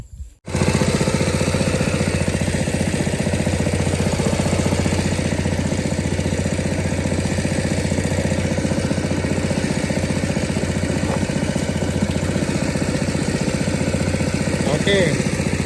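A petrol engine drives a power sprayer plunger pump of the kind used by durian growers, running steadily and loudly up close for the whole stretch with an even, unbroken drone.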